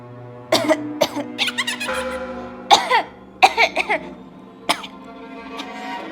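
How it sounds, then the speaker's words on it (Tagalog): A sick person coughs repeatedly in short bursts in a Tagalog horror film, some harsh and throaty, with brief pauses between fits and a low hum in the background. "Ma, may sakit ako. Inuubo nga ako eh."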